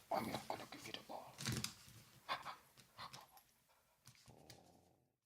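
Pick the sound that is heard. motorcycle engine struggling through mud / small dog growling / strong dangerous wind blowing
small dog growling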